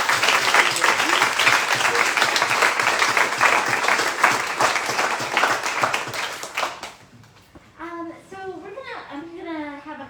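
A bookstore audience applauds an author after her reading, dense clapping filling the room for several seconds before it fades out and a voice starts speaking.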